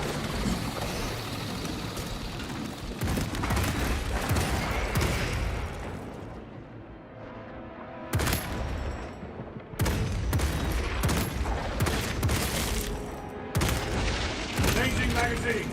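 Orbital guns fire in a video game, dense bursts of booming explosive gunfire and rumbling impacts that come in several loud waves with brief lulls between them, up close.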